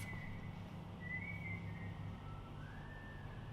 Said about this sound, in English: wow, that person has a really great whistle.